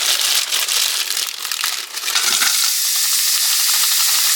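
Frozen peppers and onions hitting hot oil in a skillet, giving a loud, steady broadband sizzle that briefly dips and then holds strong to the end, with no voices.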